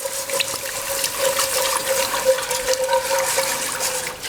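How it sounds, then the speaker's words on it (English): Chicken stock is poured into a pan while being whisked, giving a steady liquid rush with a faint running tone that continues throughout, fairly close and without any talk. "Now we're gonna pour, and I'm gonna whisk while pouring."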